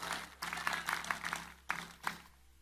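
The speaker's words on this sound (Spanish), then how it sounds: "denle un fuerte aplauso al Señor Jesucristo" A church congregation applauds during a Spanish-language sermon, heard as fairly faint bursts of clapping that swell, pause briefly and return before fading out, with no talking.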